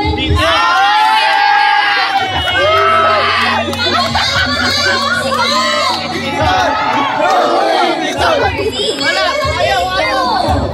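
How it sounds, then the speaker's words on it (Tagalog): A large, loud crowd of fans shouts and cheers continuously inside the SMX Convention Center in Manila, with children's voices and whoops rising over a dense, steady roar. "mas malakas yung sigawan dito."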